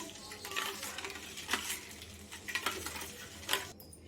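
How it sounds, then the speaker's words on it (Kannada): A spoon stirring jaggery into coconut milk in a glass, with soft swishing and a few light clinks of metal against glass, quiet and close. "ಬೆಲ್ಲ ಎಷ್ಟು ಬೇಕು ಅಷ್ಟು ಹಾಕ್ಕೊಂಡು ತಿರ್ಗಿಸ್ಕೊಳ್ಳಿ."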